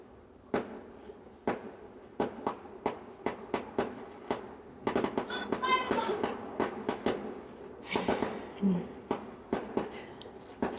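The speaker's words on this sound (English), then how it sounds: "Fireworks outside. Can you hear them?" Fireworks go off outdoors in a series of sharp, distant pops and bangs at an irregular, fairly quick rhythm, with a crackling flurry midway. Faint voices murmur underneath.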